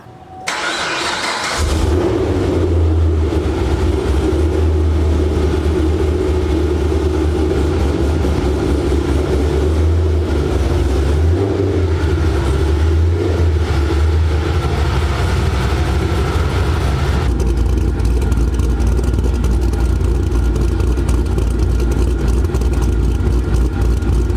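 Camaro with an LSA engine and exhaust cutouts open starting up and idling loud and close, a deep rumbling drone with revving swells throughout, no voices.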